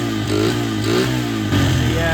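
A worn Honda XR100 dirt bike with a blown top end and heavy smoke runs loud and close, its engine idling roughly and swelling into several quick revs.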